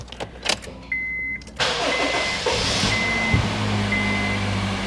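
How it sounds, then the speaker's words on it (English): A Honda Fit with freshly changed spark plugs cranks over and catches, settling into a steady, even idle heard up close after a few clicks and a brief warning chime. "you should have nothing but a quiet and calm running engine like this"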